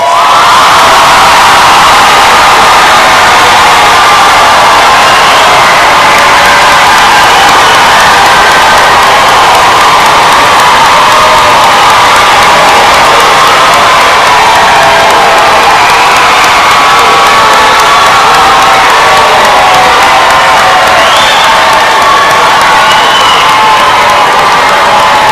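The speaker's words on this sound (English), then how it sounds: "Give these graduates a round of applause." A large crowd at a 2022 high school graduation cheers and applauds the graduates, a loud, continuous roar of shouts, whoops and clapping that never lets up.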